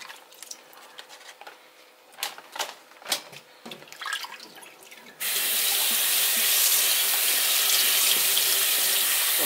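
Corned beef is handled, with a few soft knocks and rustles, before a kitchen faucet opens into a steady, close stream of running water for rinsing that continues to the end.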